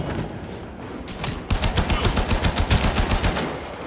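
Rapid gunfire in the video game Warframe, a sniper rifle among the weapons: after a softer stretch, a steady run of loud, closely spaced shots fires in quick rhythm, with no talking.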